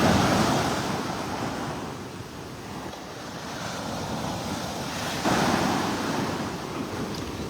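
Small ocean waves curl and wash onto a beach in North Naples, Florida, a steady surf rush with wind buffeting the microphone, swelling slightly near the start and again toward the end.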